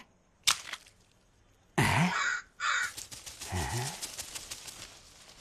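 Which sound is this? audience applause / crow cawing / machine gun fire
crow cawing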